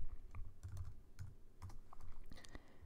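Fast typing on a computer keyboard, close and quiet, a rapid run of clicking keystrokes with brief pauses and no talking.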